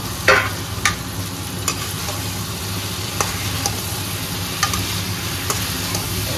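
Jackfruit and potato pieces fry in a pan with a steady broadband sizzle, punctuated by several sharp clinks and scrapes of stirring spread across the clip; no voices.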